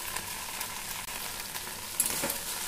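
Okra frying in a pan in a home kitchen, a steady close sizzle with faint stirring scrapes, a brief clatter near the end, no talk.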